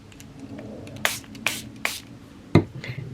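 Four short, sharp spray bursts hit a jelly plate from a nearby ink spray bottle, evenly spaced at first, then a slightly later final spritz.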